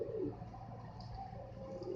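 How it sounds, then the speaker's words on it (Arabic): Iraqi blue pigeons coo softly in a low, steady murmur, a short quiet stretch of soft rolling calls with faint background hum and no talking. "هاي الطيور الزرق الأصلية، أصليات"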